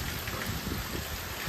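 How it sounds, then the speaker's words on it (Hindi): Steady rain over farm fields during a long spell of continuous wet weather, with an even dense hiss close by and no voices. "एक मंथ और 6-7 दिन से लगातार बारिश हो रही है"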